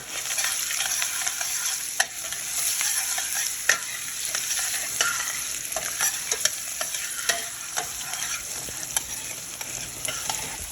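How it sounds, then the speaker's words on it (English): Rice stirring and frying in a generous amount of hot oil, a steady close sizzle broken by scraping strokes of a spoon against the pan, with no talking. "As soon as you add the rice, you want to give it a stir."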